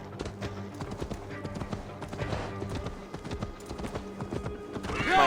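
Horse hooves clip-clop at a gallop in the video game Assassin's Creed Valhalla, on the Isle of Skye, a steady rhythmic drumming with a whinny and bright game effects rising near the end.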